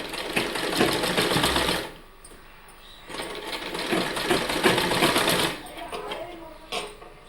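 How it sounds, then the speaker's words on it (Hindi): A sewing machine stitching warm fabric for a baby cap runs in two long, rapid, steady bursts with a short pause between them, close and loud, while a person talks over it. "अब यहाँ से हमको प्लेन सिलना है पूरा।"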